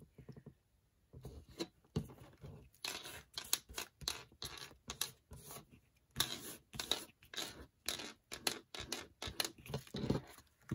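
Scissors cutting torn paper off a book, close crisp snips in quick irregular bursts with short pauses between runs of cuts, no voices.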